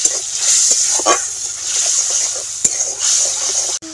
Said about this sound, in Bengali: মশলাটাকে ভালোভাবে কষিয়ে নিচ্ছি।